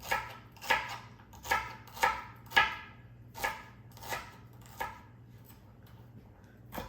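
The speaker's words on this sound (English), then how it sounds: "Let's get going on our celery. And again, just slice it up." A knife rough-chopping celery on a cutting board, about nine crisp, evenly spaced chops close up, with a short pause before the last one.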